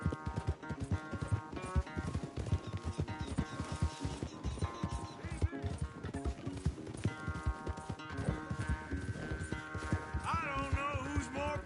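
Horse galloping in Red Dead Redemption 2, a fast rhythmic clip-clop of hooves continuing steadily throughout at moderate loudness, with music and faint game sounds behind.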